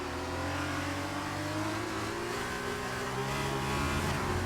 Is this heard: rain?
no